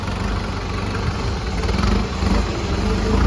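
A Kubota M6240B tractor engine, a 2023 model, runs steadily up close with a dense, loud low rumble and no talk over it.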